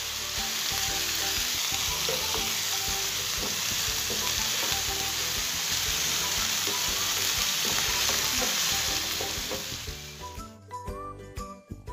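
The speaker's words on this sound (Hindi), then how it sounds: "और अब हम इसमें डालने लगे हैं हरी मिर्च।" Green chillies tumble into a pan of onion, tomato and garlic already frying in oil, giving a loud, steady sizzle with stirring clinks throughout, which drops away sharply near the end.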